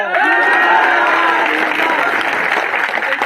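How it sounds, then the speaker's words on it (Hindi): Loud crowd applause mixed with cheering and shouting voices at a Hindi talk with an army trainer, a continuous roar of clapping and whoops that holds steady throughout. "तो फिर जोरदार ताली दो"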